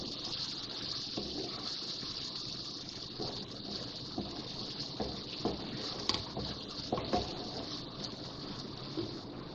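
Water is poured into frying masala in a pan for a Punjabi carrot, pea and potato sabzi, producing a soft continuous sizzle and hiss with faint splashes, low in level.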